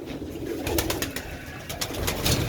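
Rooftop silver-breed pigeons cooing in a steady, low murmuring chorus, with soft overlapping coos and occasional sharp clicks or flutters throughout; no talking.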